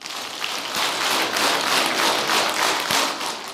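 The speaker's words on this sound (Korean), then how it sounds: "박수 10번 시작." A church congregation at a Bible lecture claps together in a quick, rhythmic burst of about ten beats, each clap crisp and distinct, loud and close, with no talk over it.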